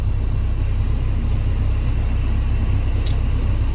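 A Caterpillar CAT320GX excavator engine runs in a steady, close, low rumbling drone with a dense throbbing pulse, joined by a brief high squeak near the end.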